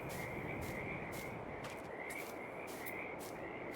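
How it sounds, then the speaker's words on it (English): Frogs croak steadily in a chorus by a lake in the Farming Simulator 22 video game, a dense rhythmic ribbiting that pulses over a constant noisy ambient bed. "Frogs would be joining me, wouldn't they?"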